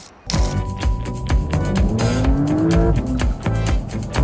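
Porsche 911 in Sport Plus mode pulling hard on Singapore streets, a loud, close engine whose pitch climbs steadily through gears with brief shifts, a sharp thump at the start, and no talk over it.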